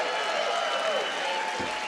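Audience applause for a married gay man being introduced at a comedy show, a steady wash of clapping from a crowd that holds evenly for about two seconds with no talking over it.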